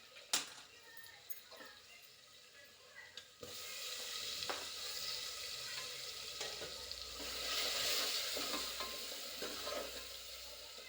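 Tomatoes go into a frying pan with garam masala and other spices, giving a faint, soft sizzle that rises after a few scattered clinks and holds steady, with brief stirring scrapes and no talk.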